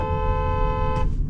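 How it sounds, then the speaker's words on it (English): Horn of a 2023 BMW X3 xDrive30i honking once in a single steady blast lasting over a second, loud and close, with engine and road rumble underneath. "I want to honk the horn at them"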